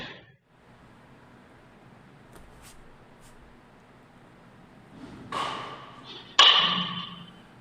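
Baseballs struck hard for line drives at a hitting practice facility, a few sharp cracks of the bat spaced apart, the last one loud and close, against a quiet background.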